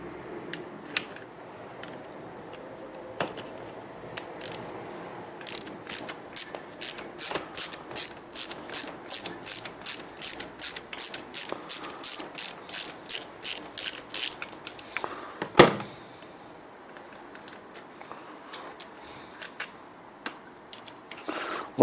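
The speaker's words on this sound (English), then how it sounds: "you need a T30 Torx tool to remove the remaining cylinder head bolt" A T30 Torx tool is ratcheted to remove a cylinder head bolt from a Range Rover air suspension compressor, giving a steady run of close, crisp ratchet clicks, then a pause and a single sharper clunk, with no talking.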